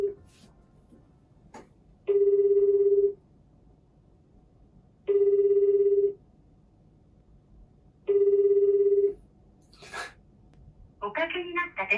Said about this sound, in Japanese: おかけになった電話をお呼びしましたが、お出になりません。